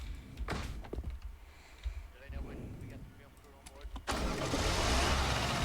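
A car door thunks shut and a car engine cranks and starts, catching near the end into a loud, close running rumble. Person speaks before the start.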